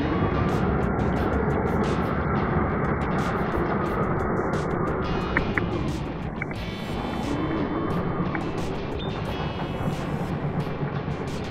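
A 3D printed RC buggy on a 2S battery runs at full throttle over sandy terrain, a loud, steady motor whine with rushing grit and wind buffeting, dipping briefly midway before surging again.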